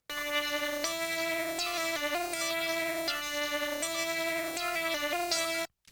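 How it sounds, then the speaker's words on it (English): A synth melody layer from an FL Studio beat plays a bright, ringing lead in repeated phrases of sliding and stepped notes. It sounds loud and alone, with no voices, and stops abruptly at the end. "here's the final layer of the melody that I made."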